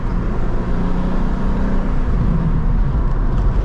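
A manual BMW M2 with M exhaust cruises with a loud, continuous low rumble and rough crackling texture, heard from inside the car under road and wind noise.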